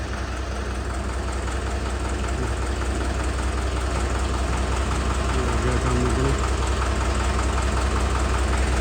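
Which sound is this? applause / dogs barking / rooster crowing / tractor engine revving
tractor engine revving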